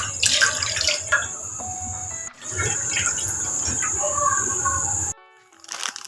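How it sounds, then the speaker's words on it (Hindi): Water pours into a cooking pan for vegetable noodle soup in a home kitchen, a steady rushing splash running for about five seconds with a brief break, then stopping abruptly before faint clinks. "हम इसमें पानी शामिल कर देंगे।"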